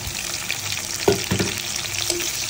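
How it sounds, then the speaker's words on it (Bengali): Small shrimp fry with bottle gourd leaves in a pan, sizzling steadily up close. A few sharper stirring knocks punctuate the continuous hiss. "আমি এখন রান্না করছি লাউ শাক দিয়ে চিংড়ি মাছ"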